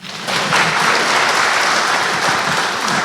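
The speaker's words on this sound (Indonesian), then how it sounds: "Ayo sekali lagi tepuk tangan" A church seminar crowd breaks into a thick, sustained round of applause that starts abruptly and holds at full strength, loud and continuous with no talking.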